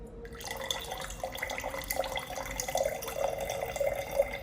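Cooking oil pours steadily into a container at close range, a continuous liquid trickle with small glugging bubbles throughout and no talking.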